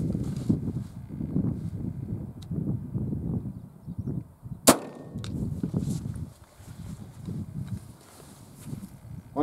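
A single sharp shot from an AirForce Texan .457 big bore air rifle with an African Air Ordnance 4500 psi upgrade, one loud crack standing out midway against a low rumbling background.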